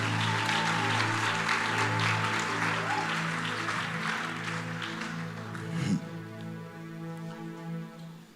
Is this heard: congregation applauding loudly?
yes